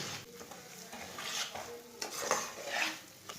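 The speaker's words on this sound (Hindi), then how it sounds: "सूजी को चम्मच चलाते हुए मीडियम आंच पर ब्राउन कर लेंगे" A spoon scrapes and stirs semolina frying in hot ghee in a pan over medium heat, a soft continuous scraping with a faint sizzle underneath, close and quiet.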